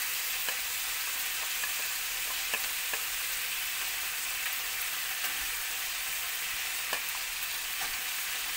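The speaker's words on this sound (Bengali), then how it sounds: "আলু গাজর আমি একসঙ্গে ভেজে নেব" Potatoes and carrots fry together in a pan with a soft, steady sizzle, punctuated by a few faint clicks of stirring, with no voices.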